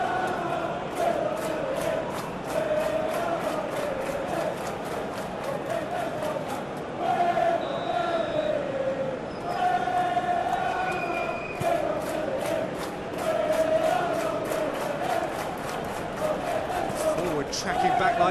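Steady stadium crowd roar from a PES football match, Manchester City against Fluminense in the Club World Cup final, holding at a constant level for the whole stretch, with voices over it.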